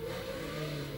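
A 1982 Formula 1 car at the Monaco Grand Prix pulls out of the Loews hairpin, its engine giving a steady, droning whine for a moment as it revs up through the gears, heard from a distance.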